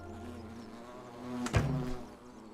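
Insects buzz around a beehive in The Forgotten City, a low steady hum with a brief louder swell of buzzing at the midpoint, heard with no voice over it.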